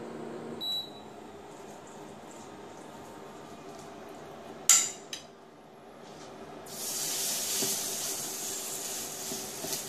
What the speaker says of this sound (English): So let's start frying our